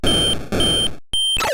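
Harsh electronic beeping from the Atari 2600 game Asteroids sounds the extra-life alert in several loud, shrill bursts that resemble a smoke alarm, separated by brief gaps.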